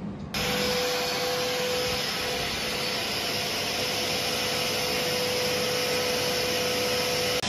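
A snow machine at a wedding runs with a loud, constant blowing roar and an airy hiss after a brief quiet start, holding steady without pause.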